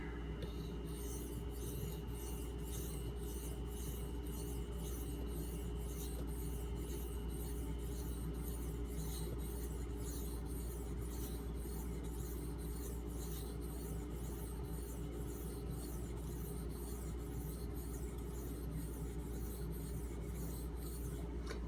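Knife blade rubbed back and forth on a 2500 grit silicon carbide benchstone, a steady, quiet, continuous fine rasp with soft repeated strokes and no talk.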